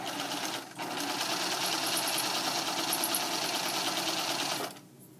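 A sewing machine runs a zigzag stitch in one steady, loud, fast whirring burst of several seconds, its needle chattering evenly before it stops.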